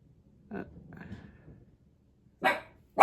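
A few sharp dog barks: one short bark, a quiet pause with faint rustling, then two louder barks close together near the end.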